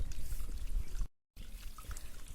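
Sesame oil poured into a heavy iron pan over a wood stove makes a soft, close trickling pour, broken by a brief silent gap before it continues.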